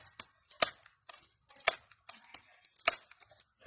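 Sharp, close snaps from an air rifle being fired and handled, several crisp transients spaced about a second apart with small clicks and rustles between them.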